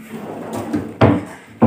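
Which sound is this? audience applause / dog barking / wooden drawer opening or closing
wooden drawer opening or closing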